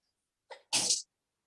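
A single human sneeze, close and sharp: a short breathy intake followed by a loud explosive burst, with silence before and after.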